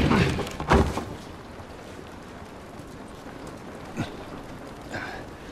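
Steady rain falls outdoors in the video game The Last of Us, a constant wash with a few louder splashes or knocks early on and two faint thuds later, no talk heard.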